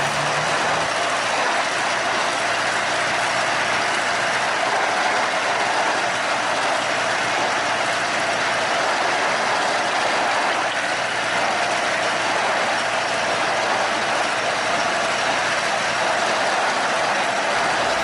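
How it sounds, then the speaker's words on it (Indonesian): A German-built locomotive on a sugar mill cane railway rolls its wheels over the rails in a loud, steady, continuous rumble and clatter, with no talking. "Dan beginilah ketika roda lokomotif lewat di atas rel."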